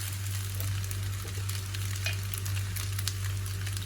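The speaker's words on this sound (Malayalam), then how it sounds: "നന്നായിട്ടൊന്ന് മിക്സ് ചെയ്തെടുക്കാം" Chicken macaroni stirred in a frying pan, giving a continuous close sizzle with soft scraping and stirring noises over a low steady hum, no voices.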